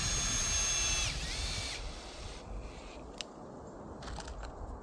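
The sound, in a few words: power drill driving screws into railroad track ties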